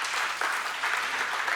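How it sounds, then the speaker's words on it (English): An audience at a technology conference applauds as a speaker walks on stage, a brief continuous burst of many hands clapping, steady and fairly loud with no voices. "I would request you to give him a round of applause as he makes his way on stage"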